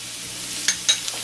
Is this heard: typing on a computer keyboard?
no